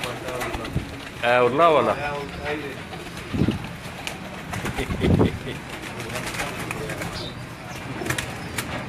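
Hira Lal breed pigeons coo in low throaty bursts close by, with a person talking through most of it and some rustling and thumps in the background.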